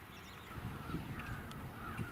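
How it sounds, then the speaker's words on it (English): Crows cawing during mobbing of red-tailed hawks outdoors, faint and distant harsh calls over a soft breezy background. "Crows mobbing redtails is still a daily occurrence."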